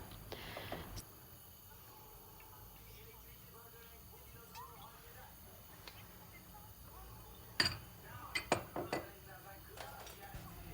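A cooking pot is set onto a kitchen stove, giving a few sharp metallic clanks and clinks near the end after a quiet stretch of low room noise.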